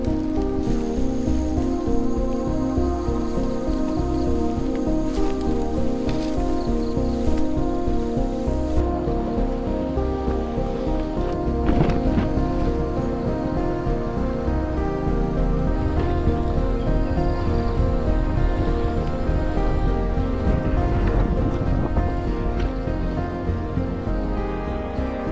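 Light rain falls in a Vietnamese jungle, a steady, even patter and hiss that runs unbroken for the whole stretch with no one speaking.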